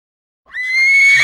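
A horse gives a loud, close whinny that starts after a brief silence and rings out strongly to the end.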